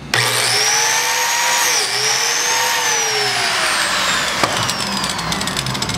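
A biscuit joiner cuts a slot into wood for a trestle table, a loud, steady motor whine with a high blade tone that holds for several seconds, close up and with no one talking.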